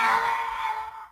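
The Yoda death sound effect from Star Wars, a single short held vocal tone that stays steady, then fades out within about a second, alone and fairly loud.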